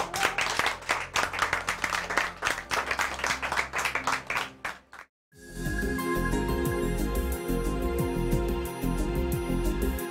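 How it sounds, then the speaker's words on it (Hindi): Applause welcoming a new member to a music team, clapping briskly for about five seconds before a short pause, after which a full musical passage takes over. "हैदर भाई के लिए तालियां, वेलकम।"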